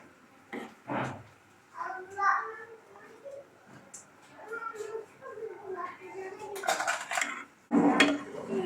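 A spoon stirs sago dessert with powdered milk in a pot, producing a few soft metallic clinks and scrapes under a person talking throughout.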